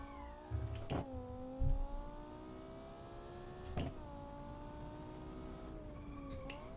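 A sport luxury car engine in BeamNG revs through several rising and falling sweeps, with sharp bursts and low thumps between them, fairly quiet and steady.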